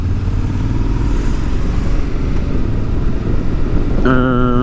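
A Honda Forza 750, a four-stroke 750 cc parallel-twin scooter with 58 hp and a DCT automatic gearbox, idles steadily and loudly up close. Its low engine drone is continuous throughout, with a brief higher whine near the end.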